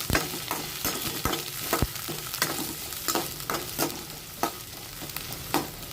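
Onions fry in a pan after curry leaves went in, giving a continuous soft sizzle punctuated by regular sharp stirring clacks of a utensil against the pan, close but moderately quiet.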